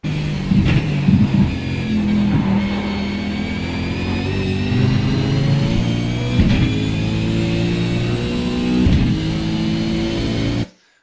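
A race car at Sebring brakes and accelerates, with a loud engine note climbing in pitch through repeated gear changes and brief dips, close and continuous before cutting off abruptly.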